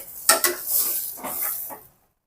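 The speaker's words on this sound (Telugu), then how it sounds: "మసాలా పేస్ట్ వేసిన తర్వాత చక్కగా ఇలా వంకాయలో వేసేసి" Masala paste is stirred into stuffed eggplants in a pan for gutti vankaya curry: two sharp clinks of a utensil against the pan, then soft sizzling scrapes and mixing that stop after about two seconds.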